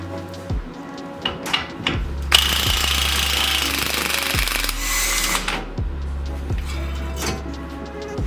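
An impact gun works on a Nissan Rogue axle nut in a garage, firing repeated loud rattling bursts up close with short pauses between them.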